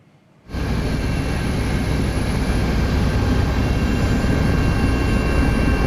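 A rescue helicopter flies flood victims out of an isolated area of Palembayan, West Sumatra. Its engine and rotor roar begins abruptly and then holds loud and steady, close and continuous, with no talk over it.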